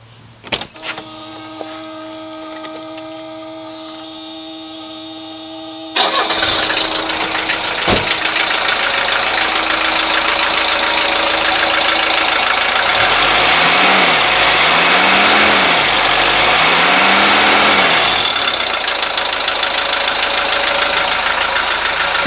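A car engine cranks and starts after its lines have been bled, then settles into a steady running idle with a slight vibration and a few brief rises in revs, after a quieter stretch of electrical whine.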